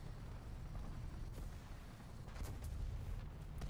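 Artillery fire in the War Thunder tank game, a dense, muffled rumble of distant blasts and gunfire that rolls on without a break, faint overall.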